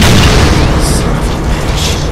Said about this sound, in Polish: A, teraz będzie wybuch, nie?